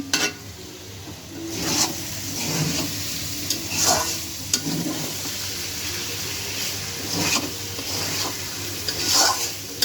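Two eggs frying in a pan on a home stove, a soft steady sizzle broken by intermittent scraping and stirring clatters, close by with no talking.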